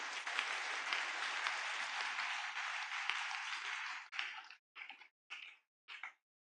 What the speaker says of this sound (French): Est-ce que tu peux m'aider à acclamer très fort pour le Seigneur?